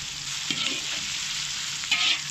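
Cut onions fry in a pan for mutton curry, giving a steady close sizzle with a few soft stirring scrapes and no talking.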